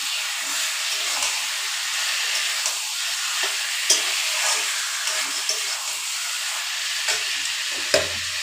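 Chicken pieces tipped into sautéed spice masala in a pan, sizzling and hissing steadily up close, with occasional clinks and scrapes of a stirring spoon over the constant fry.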